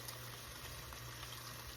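Beef broth is poured into a pot of soup, a faint continuous liquid rush with a low steady hum beneath, no voices present.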